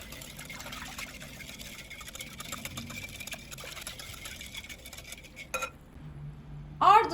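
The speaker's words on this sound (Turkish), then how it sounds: "Ekledikten sonra bir çırpıcı yardımıyla harcımızı güzelce bir karıştırıyoruz" A whisk stirring pizza dough mixture with instant yeast in a bowl, soft rapid scraping and clinking against the bowl that runs steadily and then stops, with a few louder knocks at the close.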